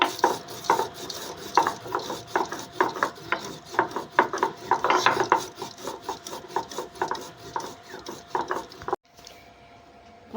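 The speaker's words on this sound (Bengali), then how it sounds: "এবারে আমি শিলনোড়ায় ভাজা তেজপাতা, কালো জিরে আর সাদা জিরে মিহি করে বেটে নেব।" Fried bay leaf with black cumin and white cumin ground on a stone slab with a stone muller, a steady run of close, rhythmic rasping and rubbing strokes that stops abruptly near the end, with no voices.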